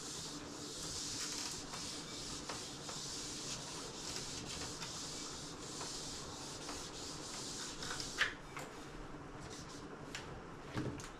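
Writing being erased from a board, a faint steady rubbing and scraping that runs for several seconds before easing off, with a couple of light knocks near the end.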